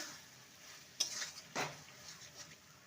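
Fried spice mix is stirred into a spinach vegetable curry in a pan, with two quick scraping clinks of a spoon against the pot over faint sizzling.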